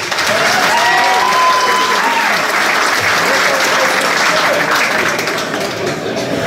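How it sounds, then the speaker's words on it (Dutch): Audience at a carnival key handover ceremony in Nederweert applauds on stage cue, a dense, loud burst of clapping that holds steady throughout and fades slightly near the end. "Dames en heren, een applaus voor Erik Kessel"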